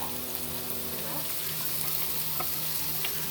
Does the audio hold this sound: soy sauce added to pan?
yes